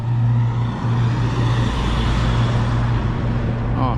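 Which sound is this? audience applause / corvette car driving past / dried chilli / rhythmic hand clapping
corvette car driving past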